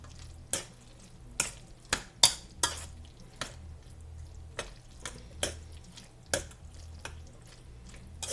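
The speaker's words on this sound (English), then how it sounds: "Make sure that every piece of pasta is covered with mayonnaise." A utensil stirs pasta coated with mayonnaise in a bowl, making soft, irregular wet clicks and scrapes about once every half second to second, close and fairly quiet over a low background hum.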